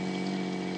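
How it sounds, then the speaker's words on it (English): An RV water pump runs steadily up close, a continuous motor hum with a strong tonal drone and faint watery hiss, unbroken and without voices. "let's see if the pump stops at some point"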